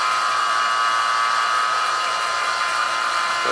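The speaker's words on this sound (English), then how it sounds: "Turn this pump off." A pump runs steadily during safety testing, a constant loud whirring hum with a strong tonal whine that holds unchanged throughout, with no talking.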